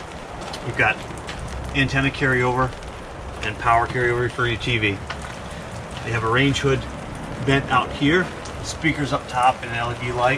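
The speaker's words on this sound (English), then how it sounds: "so it's raining a little bit." Light rain falling outside an RV, a 2020 Coachmen Catalina 263RLS, a steady soft patter running beneath someone talking close up throughout.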